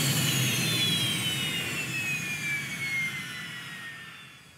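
Jet engine of an amphibious car throttling back on water, a loud broadband roar with a high whine slowly falling in pitch as the power eases off over a few seconds.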